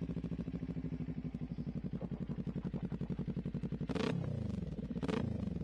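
Kawasaki Ninja 400 motorcycle, 2018 model, fitted with an aftermarket exhaust: a steady, fast-pulsing parallel-twin idle putter, fairly quiet, with two sharp blips of the throttle near the end.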